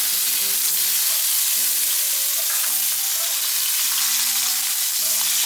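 Wagyu steaks fry in a hot pan, a loud, dense and continuous sizzle that holds steady from start to finish, close up with no voices.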